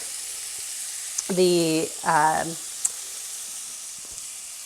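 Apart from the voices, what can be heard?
onions frying until translucent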